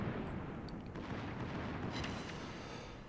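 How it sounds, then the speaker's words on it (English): Battleship main guns of the Grosser Kurfurst fire in World of Warships, a heavy, rumbling artillery boom that rolls on for a few seconds with faint sharper cracks on top, muffled and fairly quiet. "At least I can still shoot him with the main guns."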